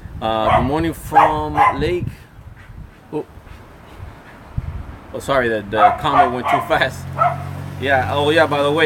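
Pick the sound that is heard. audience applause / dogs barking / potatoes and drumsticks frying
dogs barking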